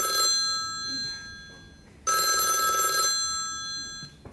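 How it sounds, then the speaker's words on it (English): A mobile phone ringer goes off in the middle of a meeting, a bright electronic ringtone sounding in two loud bursts of about a second each, separated by a short quiet gap, with no talking. "your phone as the ringer explodes in the middle of a meeting"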